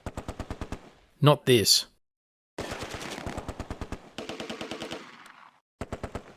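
MG42 machine gun fire in the WWII game Close Combat, set during Operation Market Garden, in rapid rhythmic bursts separated by pauses, with a short spoken line and a louder blast midway.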